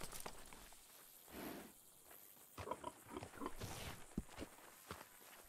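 Berkshire pigs in the video game Red Dead Redemption 2 give a few short, low grunts and snorts, mixed with footstep-like shuffling and scattered clicks, fairly quiet and spread across the scene.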